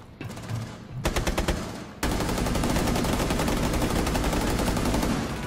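Gunfire in the tactical shooter Rainbow Six Siege, starting with a short rapid burst of automatic shots and then switching to a loud, sustained stream of machine-gun fire that fills the rest of the clip, with no talking.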